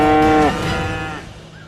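Cattle low in a long, loud moo lasting about half a second, then a lower trailing call fading out, heard close with no talk.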